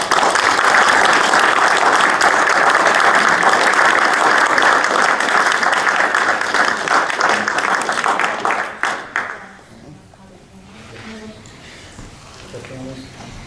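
Applause from a Tewksbury school committee meeting, a dense steady round of clapping for about nine seconds that tapers off abruptly, followed by quieter room noise and faint talk.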